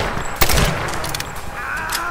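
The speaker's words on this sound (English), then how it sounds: "I know it's an old machine gun, but surely it's not right that they can take so many bullets." Tomb Raider (2013) gameplay with an old machine gun firing in a busy firefight. A loud burst with a sharp crack lands near the start, over a constant roar of game ambience and distant shots.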